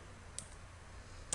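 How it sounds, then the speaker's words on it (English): A computer mouse gives two faint, sharp clicks about a second apart against a quiet room hiss, with no voices. "you're just going to right click on the URL here"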